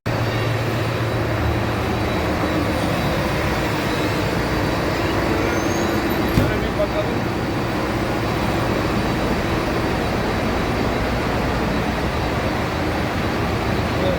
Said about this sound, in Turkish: pervane döndüren makinalar, iki tane ana makine var.